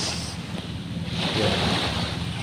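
Surf washing onto Bulabog back beach in Boracay, a steady broadband roar of waves with wind buffeting the microphone, swelling slightly midway through.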